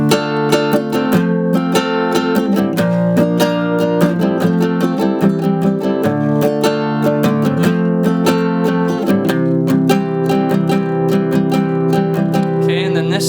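Acoustic guitar strums a steady chord pattern in a song lesson, close and even with a down-up rhythm and shifting chord changes, played alone without talk.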